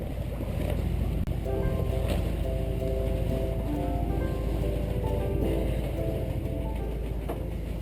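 A Volvo Penta inboard engine on a sailboat idles at about 1,500 rpm, a steady low mechanical drone with a faint harmonic hum, running continuously and close with no voices over it.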